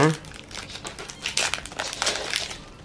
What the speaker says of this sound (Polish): Teraz sobie otworzymy Ultra Prisma.